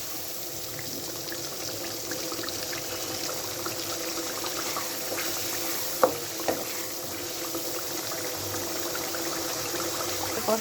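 A prepared spice masala frying in a pan after onions, a gentle, continuous sizzle with a couple of sharp clinks from stirring, close and moderately loud.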